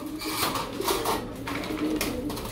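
Switzerland breed pigeons coo close by, soft rolling calls repeating over a low background murmur.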